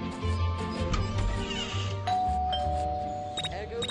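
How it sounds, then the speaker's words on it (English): Doorbell in the Scary Teacher 3D mobile game, sounding as several clear chimed dings over a low musical background, with a voice talking during it. "There goes that stupid bell again."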